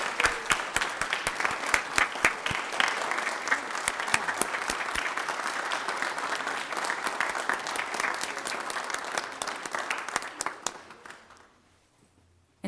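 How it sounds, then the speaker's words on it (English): An audience in a county council chamber gives a round of applause, loud and steady clapping close by for about eleven seconds before it tapers off into silence. "Please join me in a round of applause for Sinji Lee."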